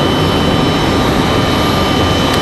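American Airlines Boeing 737 MAX jet at Raleigh Durham International airport, a steady loud broadband engine roar sustained throughout, close and unbroken, with no voices.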